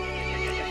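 Horse neighing in the Resident Evil Village video game, a short, harmonic whinny that is sustained and fairly loud, heard alone without talk.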